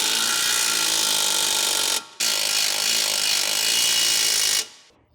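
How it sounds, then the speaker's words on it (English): Electric impact wrench with an 18mm deep socket tightening the lower strut-to-knuckle bolt on a 2012-2016 Chevrolet Cruze FWD, two loud, close, continuous rattling bursts separated by a short pause, then stopping abruptly. "Use the 18mm deep socket with the electric impact to tighten the lower strut to knuckle bolt."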